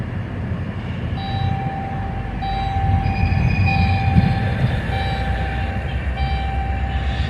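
Indiana Railroad train engines rolling along the line, a steady rumbling drone with a sustained tonal whine and faint squeal, swelling slightly louder mid-pass, heard alone without talk.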